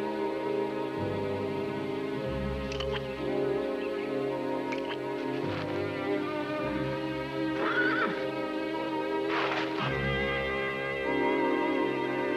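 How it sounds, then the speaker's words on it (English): A horse whinnies and neighs repeatedly in high, drawn-out calls across a dramatized 1990 film adaptation of Black Beauty, loud and close over a steady background with no talking. "My poor Beauty, my good horse"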